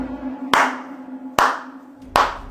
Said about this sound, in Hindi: ऐसे ताली क्यों बजा रहे हो?